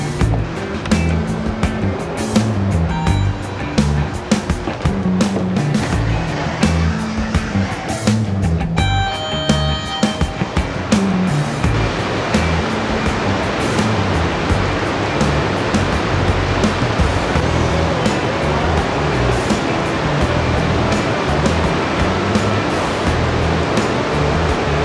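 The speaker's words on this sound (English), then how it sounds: "Still raining, but not as strong as before." Heavy rain from a passing storm in the Philippines roars steadily and loudly, a dense continuous wash with no voices.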